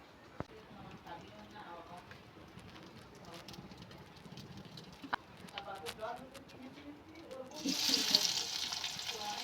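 Chopped onion hits hot oil in a home kitchen pan, breaking into a loud, steady sizzle near the end after quieter rustling and a few clinks, with a voice talking in the background.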